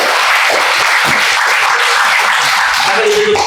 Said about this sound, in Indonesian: ya kita kasih tepuk tangan buat